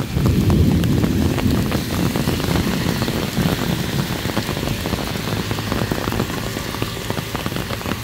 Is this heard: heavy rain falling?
yes